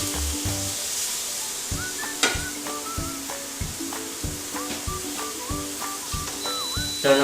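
Spicy pineapple sizzles on a grill with a steady close-up crackle and hiss, punctuated by small pops and occasional soft tonal clinks, no voices.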